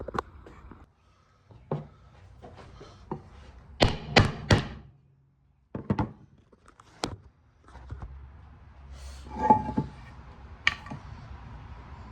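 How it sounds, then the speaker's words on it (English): Clustered metallic taps from a hammer knocking out the front main seal of a 1999 Chevy S10 2.2L engine, some rapid bursts, others single sharp knocks, close up in a quiet workshop. "Take a hammer and just hammer on it."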